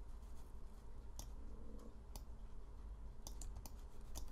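Keyboard keys pressed during 3D modeling work, appearing as a few sharp, sparse clicks spread over several seconds against a steady low background hum, fairly faint and close, with no talking.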